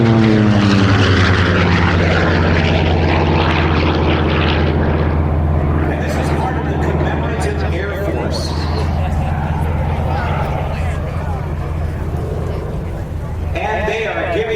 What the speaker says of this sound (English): this is the only flyable SB-2C Helldiver in the world today. Built by Curtiss Wright.